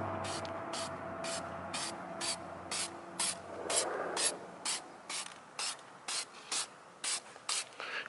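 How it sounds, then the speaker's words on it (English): An aerosol can sprays black paint onto a car wheel rim in a series of short hissing bursts, close and fairly loud, with brief pauses between strokes and a longer spray near the start. "let's get this rim blacked out. Alright guys, let's do the first coating."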